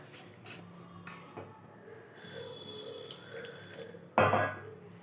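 Warm water is poured into rice batter for chakli pitha and stirred in a bowl, with soft trickling and light utensil clinks, then a louder splash and scrape near the end, fairly quiet overall.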